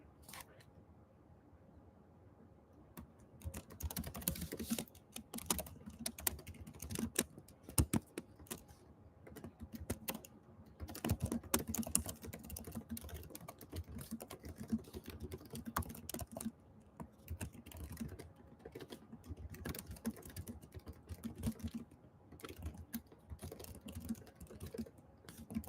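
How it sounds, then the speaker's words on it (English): Rapid clattering keystrokes on a computer keyboard come in uneven bursts with brief pauses, close to the microphone but soft, continuing steadily for the whole stretch. "Hope my typing isn't obnoxious."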